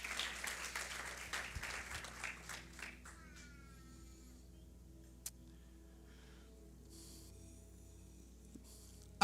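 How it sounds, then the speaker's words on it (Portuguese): Church congregation claps briefly, a ragged burst of applause lasting about three seconds that quickly thins out, followed by a quiet room with low hum and a couple of isolated knocks. "Can you give an applause to the Lord?"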